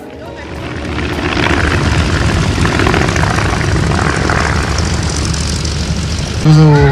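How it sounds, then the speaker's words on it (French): A Stearman biplane's propeller engine drones loud and steady as it flies past at an air show in Merville, the throaty roar swelling and holding, with a voice cutting in at the very end. "Cet avion est un Stearman."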